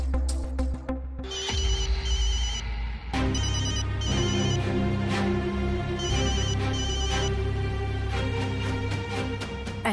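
A telephone ringtone plays loudly and repeatedly in a bright electronic melody, with brief pauses between bursts.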